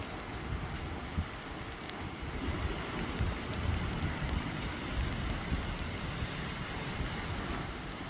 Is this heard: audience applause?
no